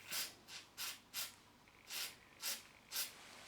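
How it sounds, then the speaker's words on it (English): Aerosol penetrating oil sprayed from a can onto a small stripped screw in a key fob: seven short, hissing bursts in a steady rhythm with brief pauses between, close and fairly quiet. "So I'm going to spray that with some more penetrant."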